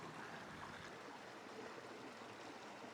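Shallow stream flowing over a low water crossing lined with Inca stone walls on a hike near Cusco, a steady broadband rush of running water, continuous and moderately near, with no talk.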